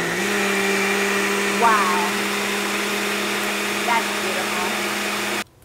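Countertop blender whirring steadily through a sweet potato haupia pie filling sweetened with honey, loud and continuous for over five seconds before it cuts off, with a brief spoken exclamation over the motor.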